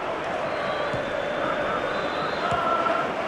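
A FIFA 11 stadium crowd at a Fenerbahce versus Galatasaray match keeps up a steady, broad roar of cheering, with a couple of faint thuds cutting through the wash of noise.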